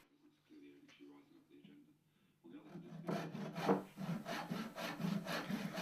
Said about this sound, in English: Once marked, cut to length with a tenon saw